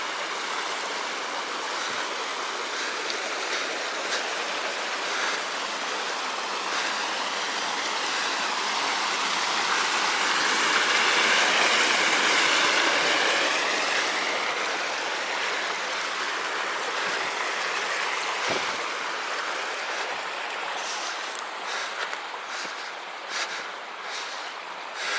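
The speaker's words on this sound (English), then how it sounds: "Oh, isn't my little creek cute?" A small creek flows along a backpacking trail in the Desolation Wilderness, a steady broadband rush of water that swells slightly in the middle and holds on for the whole stretch, with no voices.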